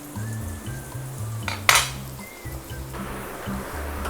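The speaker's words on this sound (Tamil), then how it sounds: "நல்லாவே ஃப்ரை பண்ணிடுங்க வெங்காயத்தை." Onions frying in oil in a pan for a Hyderabad-style chicken curry, a steady low sizzle throughout with clinks of a utensil against the pan and one sharp scrape near the middle.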